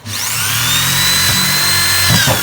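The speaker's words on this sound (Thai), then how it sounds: "ก็เจาะครับเจาะเข้าไปเลยครับ" A power drill whines steadily at high speed as it bores holes through a plant pot for a desert rose, with a rough grinding as the bit breaks through near the end.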